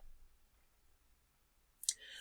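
One short, sharp computer mouse click near the end of an otherwise quiet stretch, clicking a button on a web page.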